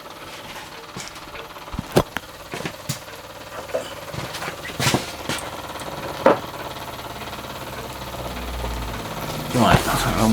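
A model marine steam engine runs on a fire-brick stand, fed by a short pipe from its burner, giving a busy mechanical chuffing and clatter with sharp irregular knocks and clicks that grow louder toward the end.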